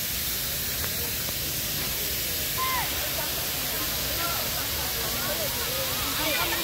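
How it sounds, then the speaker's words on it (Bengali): Artificial fog machine blowing mist through a forest, a steady broad hiss running the whole time, with birds chirping faintly and people talking quietly behind it. "কৃত্রিম কুয়াশা ফগ কৃত্রিম ফগ বইছে"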